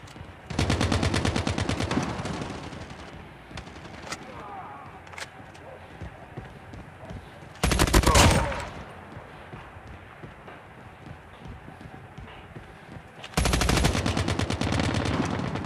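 Call of Duty Mobile gunfire rattles in three long automatic bursts, loud and rapid with a dense metallic clatter, separated by quieter stretches of background game noise.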